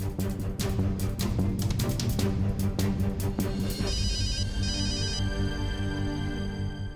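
A telephone rings in a Hindi TV drama scene, a bright electronic ringtone pattern entering after a stretch of rhythmic clattering noise and lingering over a dense musical background.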